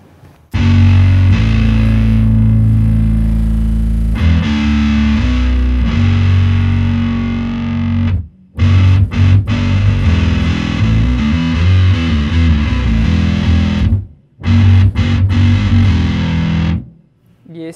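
Electric bass run through a single pedal with gate, compressor, distortion and EQ, giving a loud, heavy, fuzzy and dirty tone. It plays sustained notes and choppy riffs that cut off sharply into brief silences, with no talking.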